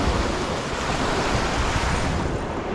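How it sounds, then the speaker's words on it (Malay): Ocean waves break against rocks along a shoreline during land-based fishing, a steady loud wash of surf with wind noise over the microphone and no voices. "Tunggu ombak."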